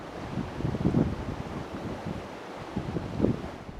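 An Oyster 595 sailing yacht moving at about 10 knots through flat water in a 16–17 knot breeze, with a continuous rush of water along the hull and gusty wind buffeting the microphone, with no voices.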